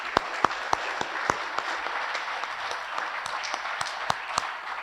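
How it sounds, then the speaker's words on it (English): Applause from the audience at a men's lacrosse awards breakfast, a steady patter of many hands with a few sharper, louder claps standing out, moderately distant and continuous throughout. "So round of applause"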